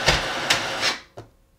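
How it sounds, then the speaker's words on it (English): An HP DeskJet 3755 printer prints a Wi-Fi password page, giving three short mechanical whirring strokes followed by a brief click, close and fairly loud, with no one talking. "And the printer start printing, so I can release those buttons."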